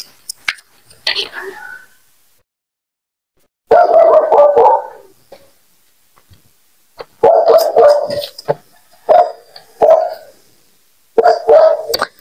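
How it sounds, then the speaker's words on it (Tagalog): A dog barks in several loud, close bursts of repeated yaps, separated by quiet gaps, with faint whispery speech now and then. "pasensya na kung meron kayong naririnig na tahol ng aso"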